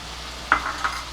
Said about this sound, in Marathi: आपण घालणार आहोत ही लाल मिरची आणि लसणाची पेस्ट किंवा लाल चटणी